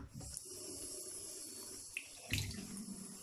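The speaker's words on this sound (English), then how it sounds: "Turn on the faucet." Water runs steadily from a household faucet as a soft, continuous hiss close by, with a few small splashes and bumps.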